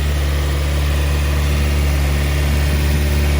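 A Honda B16A engine idles steadily just after its first start, a loud, even mechanical hum with a strong low rumble and constant vibration throughout, with no voices.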